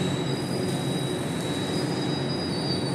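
A metro train at Stadium station in Singapore, steady loud rumble of the train with a thin high wheel squeal running throughout, no voices.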